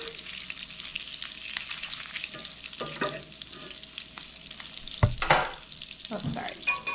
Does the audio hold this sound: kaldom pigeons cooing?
no